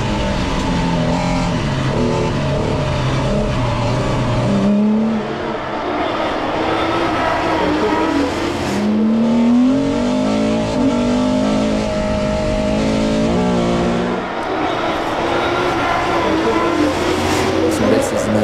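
Rallycross race cars, including D3 machines, drifting through a left-hand corner at Mayenne: loud sustained engine roar with rising and falling revs as cars pass, under French commentary.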